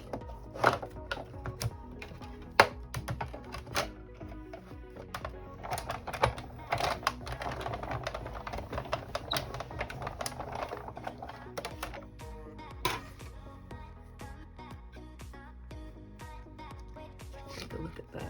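Silver card is cranked through a 3D embossing machine, giving a long run of dense, rapid clicks and rattling mechanical taps with a few louder knocks, while a person talks over it.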